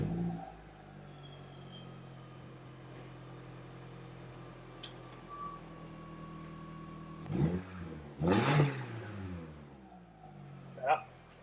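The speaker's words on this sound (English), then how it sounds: "We're about to fire the car up and see how much extra noise it makes" A Datsun engine with a new muffler fires up and revs in a few short bursts, loud and close, after a stretch of steady idle rumble with some background noise.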